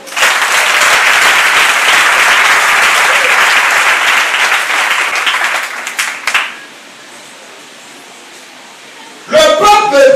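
Church congregation applauding the Lord, loud dense clapping for about six seconds that fades out, a quiet pause, then a voice returns at the end.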